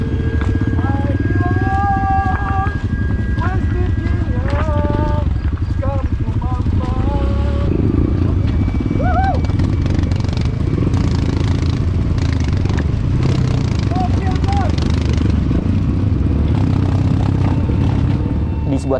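A motorcycle engine rumbles and labors on a steep, rough, slippery mountain trail, its low drone running steadily underneath continuous talking.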